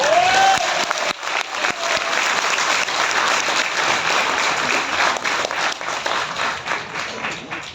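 A seminar audience in Hyderabad breaks into steady, dense clapping across the room, continuous and fairly loud throughout.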